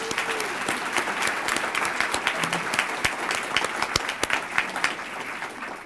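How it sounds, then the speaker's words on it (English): Audience applause at a teacher of the year award event, steady clapping from a room full of people sustained throughout, with scattered sharper claps standing out near the front. "she deserves a round of applause"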